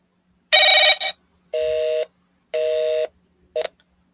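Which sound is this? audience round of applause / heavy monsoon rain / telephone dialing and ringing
telephone dialing and ringing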